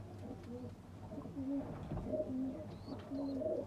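Several pigeons, including a black male Cheena pigeon, coo in low, repeated throaty phrases, close by, with a steady background murmur and a few higher chirps.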